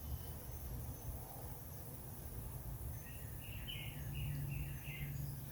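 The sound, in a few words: birds singing outdoors in nature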